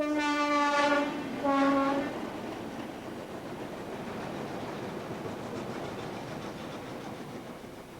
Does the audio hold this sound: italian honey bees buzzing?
no